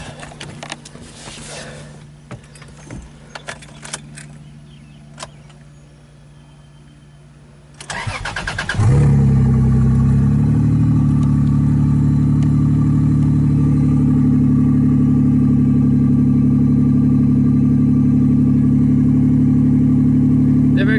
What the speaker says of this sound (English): Let's start her up, warm her up, see if she does that 2K RPM jump.